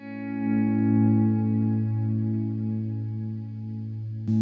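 Sustained guitar swells played through a Vox AC15 (AC15C1) amp with Eventide delay and Mod Echo verb reverb, thick chordal tones blooming and fading with a wide, chorused wash of space, heard alone with no talking.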